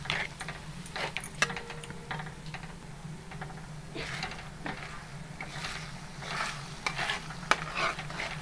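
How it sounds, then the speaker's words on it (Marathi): Seven eggs are stirred and mixed in a pan for a dry Marathi-style egg bhaji, with soft scraping and clinking strokes coming irregularly over a low background hum. "आता छान मिक्स करून घ्यायचे।"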